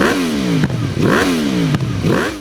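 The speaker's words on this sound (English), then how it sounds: "it gave Yamaha R1s that distinct crossplane engine sound" A Yamaha R1M crossplane motorcycle engine revs repeatedly, its pitch rising and falling in rough cycles, loud and close with a gravelly, uneven growl.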